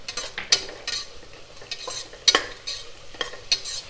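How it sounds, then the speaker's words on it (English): Ginger garlic chili coarse paste stir-fried in a pan for chicken biryani, with a steady sizzle under irregular scraping strokes and a few sharp spoon clinks against the pan, close and fairly loud, no talking. "Now I'll add the ginger garlic chili coarse paste"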